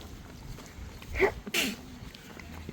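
One sharp sneeze bursts out close by in the open air outside a large castle on a sunny day, standing out briefly against quiet background ambience.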